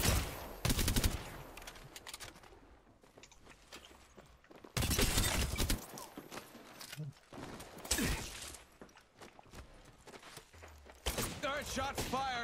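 Gunfire in a PC first-person shooter, with several loud bursts of rapid automatic fire separated by quieter stretches of footsteps and mechanical clatter, while players talk over a party chat.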